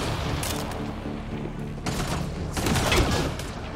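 Rapid bursts of turret gunfire in Mass Effect: Andromeda, loud crackling volleys with a couple of heavier surges partway through, layered over a rumbling battle bed without voices.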